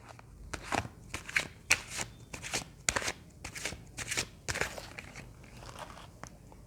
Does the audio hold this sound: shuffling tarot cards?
yes